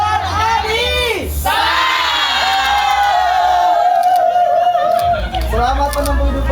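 Guests at a West Javanese wedding reception in a village cheer and shout together, a loud sustained roar of many voices with whoops rising and falling, alongside amplified speech.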